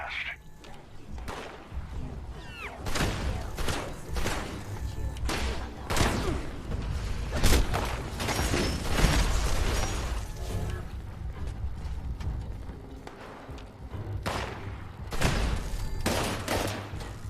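Rapid gunfire bursts crack through a Fallout 76 firefight, repeated loud volleys with mechanical clanks between them, while a voice talks over parts of the action.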